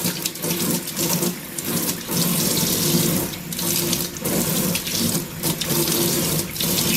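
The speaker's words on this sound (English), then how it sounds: "So I'm just going to run the hot water, get that nice and warm." Hot water runs from a kitchen tap into the sink in a steady, close rushing stream with slight splashy fluctuations throughout, and no voices.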